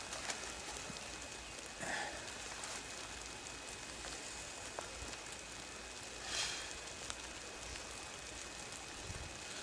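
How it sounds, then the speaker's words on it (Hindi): Steady outdoor rainfall patters as a continuous wash of drops, with a few louder splashes and a faint bird call now and then, during a quail-catching outing; no one speaks. "अभी ये बारिश पड़ रही है।"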